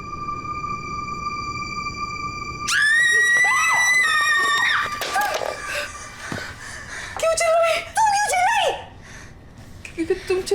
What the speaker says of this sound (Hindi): क्योंकि तुम चिल्लाए।